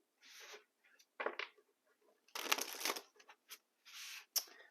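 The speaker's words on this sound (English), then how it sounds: "One more shuffle." Tarot cards shuffled by hand in short bursts, crisp riffling and flicking pieces separated by brief pauses, close and fairly quiet with no talk.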